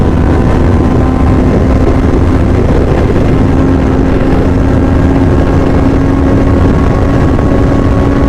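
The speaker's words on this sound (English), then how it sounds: "Fourth gear still running at 210 plus kilometers per hour." A Yamaha MT-09 motorcycle engine runs at high speed in fourth gear, a loud, steady droning whine with a constant pitch, layered with heavy wind roar throughout.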